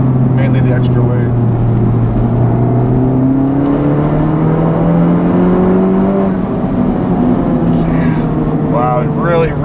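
A 2019 Honda Civic Type R with a Borla exhaust revs hard, its engine note climbing and falling in loud, close sweeps through the upper rev range, with a person talking over the sound.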